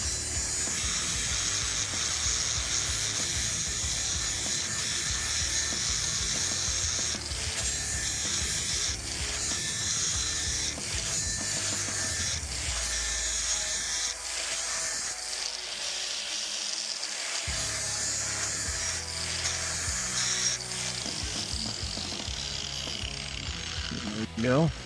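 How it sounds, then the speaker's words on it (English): Blades from a Honda HRN216 lawn mower are sharpened, a close, continuous grinding and rasping with shifting pitch and steady loudness that breaks off briefly partway through, then resumes. "Let's go ahead and get these guys sharpened up."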